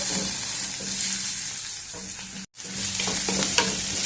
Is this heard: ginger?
yes